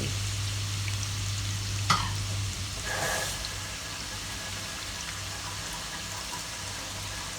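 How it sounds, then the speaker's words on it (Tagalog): Sea shells stir-fry with cut ginger in a pan for a sautéed gisado dish, giving a continuous sizzle with a low steady hum under it, one sharp clank of the utensil and a short hiss burst. "Isunod natin ng ating ginger cut. Ayan, ihalo din natin."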